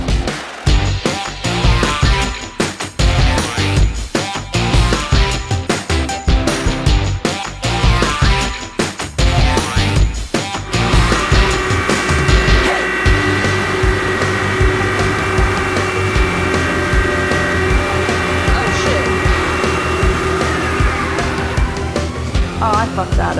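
Machining a hole in an octagonal block gives harsh, loud cutting at first, then a steady high whine from the tool running on alone, with no talk.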